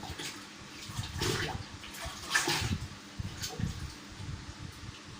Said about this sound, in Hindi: ये गारमेंट इस हाइपो वाले पानी के अंदर मैंने ये डाला, ये डाल दिया इसके अंदर।